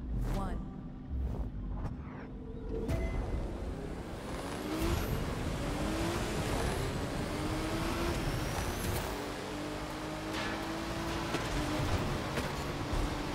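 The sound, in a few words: race car engines in The Crew 2 video game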